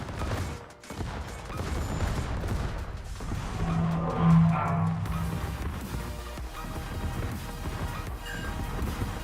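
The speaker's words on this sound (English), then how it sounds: "They're shooting me." In a video game, enemies fire guns at the player, a dense, rapid burst of gunshots and crashing impacts, loud and chaotic, with no talk.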